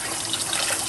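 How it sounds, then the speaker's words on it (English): Tap water runs in a steady, loud, close rush while rice is rinsed, an even wash of splashing sound with no pauses and no talking. "So, on the safe side, I guess we can wash the rice."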